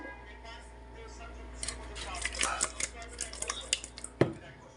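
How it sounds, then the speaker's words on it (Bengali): Fish is stirred with a spice mix in a pan, a run of soft scraping and clinking from about the middle of the clip and one sharp knock near the end, with faint background noise and no talking. "এখন আমরা মাছে মিক্স মশলা দিয়ে দিছি, একটু নেড়ে চেড়ে দিব।"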